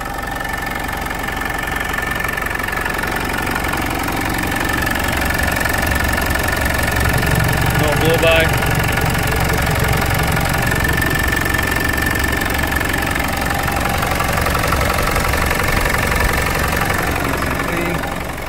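A 1993 Land Rover Defender 90 with the 200tdi diesel engine idles steadily up close, a continuous knocking diesel clatter with a faint whine over it and no voices.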